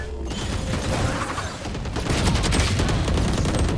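Loud, close gunfire rattles in a Valorant match, with dense bursts of shots and clattering impacts that grow heavier toward the end.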